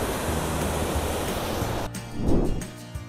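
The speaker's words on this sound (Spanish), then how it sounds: "el sonido que veníamos escuchando del río para irnos acercando a la cascada" A river rushes steadily toward a waterfall near Tegucigalpa, Honduras, a dense, even roar of flowing water that briefly dips and swells with a few soft knocks near the end.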